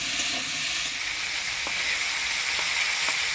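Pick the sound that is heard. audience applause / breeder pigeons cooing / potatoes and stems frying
potatoes and stems frying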